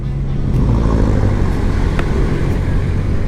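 A car engine roars steadily on a road during a rainy drive, a continuous loud low rumble filling the whole stretch with no talk over it.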